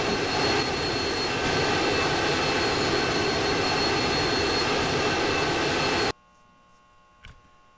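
An airplane engine roars in a Roblox game, a loud steady jet-like drone that cuts off abruptly, leaving near silence with one faint bump.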